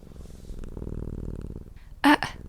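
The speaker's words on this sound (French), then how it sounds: "J'entends vos ronronnements" Steady low rumbling purr from cats at a vet visit, continuous and close for about two seconds, ending with a short bright burst of noise.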